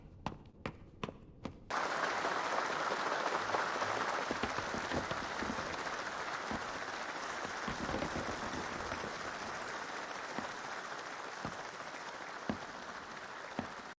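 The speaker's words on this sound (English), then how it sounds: "Clapping at the person's death." After a few isolated claps, an audience breaks into sustained, dense applause that holds steady and loud for the rest of the stretch, with scattered sharper claps standing out.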